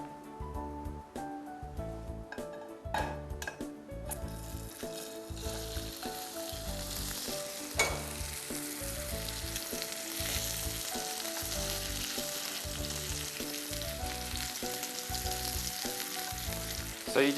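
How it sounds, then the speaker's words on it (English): Steak frying in a hot pan, seasoned with salt and ground pepper, giving a steady, loud sizzle and crackle that holds throughout with no talk over it. "And now the steak is ready to go into the frying pan."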